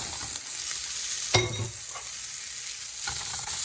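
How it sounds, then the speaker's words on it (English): Rice noodles for shrimp pad thai drop into a hot, sizzling pan, with a steady close frying hiss throughout and a sharp clatter and burst of sizzle as the noodles land and are stirred. "And now I'm going to add my noodles into this."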